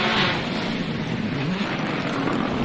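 A Hyundai i20 Rally2 rally car on a gravel stage near Whangarei roars close by at full throttle, its loud broad engine note holding steady and slightly shifting in pitch as it passes.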